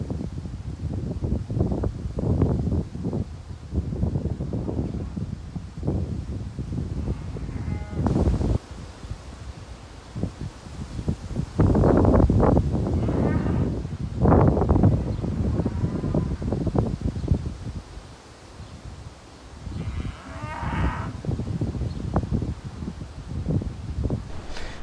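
Strong wind gusts buffet the microphone outdoors near a barn, loud rushing bursts that rise and fall, with brief quieter lulls and a faint animal bleat mixed in.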